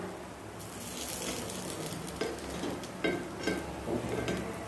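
Tiffin frying in a pan over a medium flame, a steady soft sizzle with occasional light scraping and clinks of utensil against the pan, fairly quiet and without voices.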